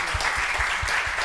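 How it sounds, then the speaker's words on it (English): Audience at a UX writing panel clapping for the speakers, a brief, steady wash of many hands at moderate volume with no break. "So let's give them a round of applause."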